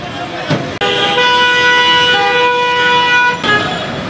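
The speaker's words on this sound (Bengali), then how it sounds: "অকারণে কিন্তু হর্নটা না বাজালেও পারতেন" A road vehicle waiting at a traffic signal sounds one long, loud, continuous horn blast that lasts nearly three seconds amid traffic noise.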